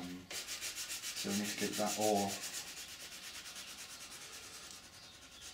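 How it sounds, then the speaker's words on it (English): Sanding a 3D printed ABS part meant for mould making, a steady rhythmic rasping of repeated strokes close by, loudest early on and easing off later, with a brief spoken phrase over it. "as you're sanding, the dust actually falls into the valleys"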